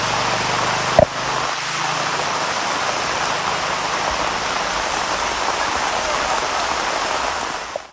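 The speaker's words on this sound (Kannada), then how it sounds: "ಭಟ್ಕಳದಲ್ಲಿ ಗುರುವಾರ ಸಂಜೆಯೂ ಮಳೆ ಮುಂದುವರೆದಿದ್ದು" Steady rain falls continuously in Bhatkal, a dense even hiss of water on surfaces that holds at the same level throughout, with a single brief knock near the start and no talking.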